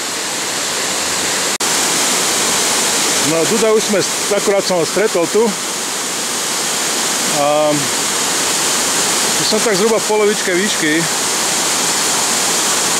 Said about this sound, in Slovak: Skutočne dneska hučí, šuští. Je skutočne pekný a veľký.